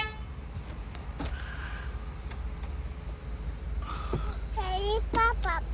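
A car horn toots several short times near the end, loud and close, over a steady low engine idle and cabin noise.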